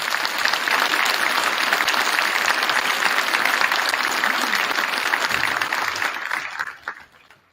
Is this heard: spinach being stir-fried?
no